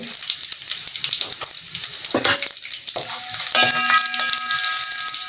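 Loud, crackling sizzle of spices and asafoetida hitting hot tempering oil for spinach dal, continuous and close, with bursts of spitting and a few clinks of a utensil against the pan.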